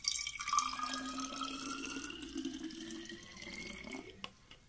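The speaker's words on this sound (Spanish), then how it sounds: "por aquí le voy a echar el vinagre a la botella" Vinegar poured into a bottle for a baking soda and balloon experiment, a faint continuous trickle with a rising filling tone over several seconds, ending in a few small drips and a clink, no talk.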